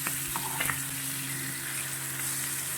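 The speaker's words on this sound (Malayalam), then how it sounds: "വെളിച്ചെണ്ണ ചൂടാകുമ്പോൾ ഇതിലേക്ക് നമ്മൾ മാരിനേറ്റ് ചെയ്ത് വെച്ച മീൻ ഇട്ട് കൊടുക്കാം" Marinated karimeen fish sizzles steadily in hot coconut oil in a pan, a constant close, moderately quiet frying hiss with a few small pops and spatters near the start.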